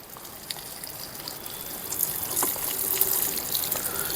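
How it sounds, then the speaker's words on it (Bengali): Water poured onto potted periwinkle (Catharanthus) plants, a soft steady trickle and splash of liquid running continuously, growing slightly fuller toward the end, close by with no talking. "এবার আমি এই গাছগুলোতে জল দেব।"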